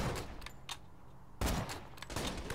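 A shotgun fires in the video game Borderlands 2, with bursts of sharp, booming gunfire in quick succession and a heavy blast midway, plus scattered impact sounds.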